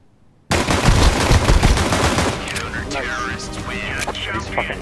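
Rapid automatic gunfire in Counter-Strike 2, a loud dense volley of shots followed by scattered impacts, metallic clatter and in-game effects.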